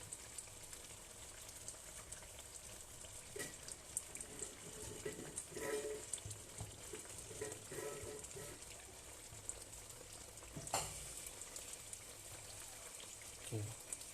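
Spicy lamb chop chutney bubbles quietly in a pan, a faint soft simmering crackle with occasional small pops and clinks, low and close, with no speech over it.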